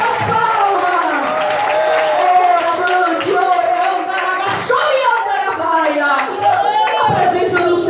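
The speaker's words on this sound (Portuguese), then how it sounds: "Louvai o Senhor com as palmas." A church congregation claps hands in praise, rhythmic clapping running under loud singing and voices that dominate throughout.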